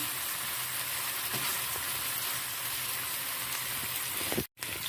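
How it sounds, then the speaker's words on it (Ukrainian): A dense, steady sizzle of vegetables frying in a pan, close and continuous like light rain, with a faint clatter partway through and a sudden brief silence near the end. "Обжарюємо, тільки стає вона трошки такого прозорого кольору і м'якшенька"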